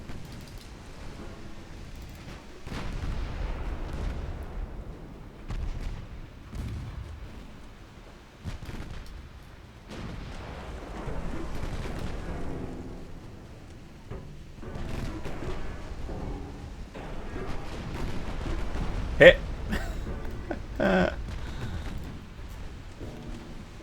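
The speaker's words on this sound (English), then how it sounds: "Torpedo." Torpedo explosions in a naval warfare video game rumble as repeated low booms and muffled blasts over a continuous game soundscape, with a couple of sharper impacts near the end.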